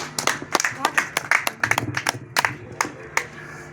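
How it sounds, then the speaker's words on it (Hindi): Scattered claps from an audience at a panchayat council's foundation day gathering come in uneven bursts of sharp hand strikes, close and fairly loud, with voices mixed in among them. "पहले जोरदार ताली बजाइए आप लोग।"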